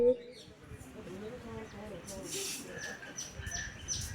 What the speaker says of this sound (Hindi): पूरा ध्यान चिड़ियाओं की चहचहाने की आवाज, घाट से बहती हुई लहरों की आवाज।